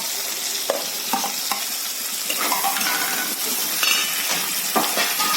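Elephant foot yam stems and potatoes fry in a pan in a village-style kitchen, producing a loud, steady sizzle with intermittent scraping stirs and clinks of utensils, close up with no talking.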